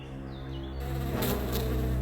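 Bees buzzing in a dense, steady drone that swells louder partway through, close and continuous with no voices.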